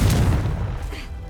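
The Confringo explosive spell cast in the video game Hogwarts Legacy, heard as a short, loud, low boom that fades out within about a second.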